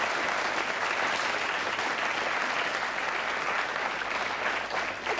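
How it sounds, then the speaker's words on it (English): A television game show studio audience applauds for a contestant, a steady, dense roar of clapping lasting several seconds, close and even in level throughout. "let's have a big round of applause, please, for Richard Parsons of Hillcrest Comprehens"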